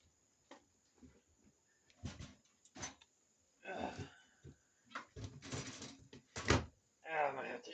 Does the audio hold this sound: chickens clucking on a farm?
no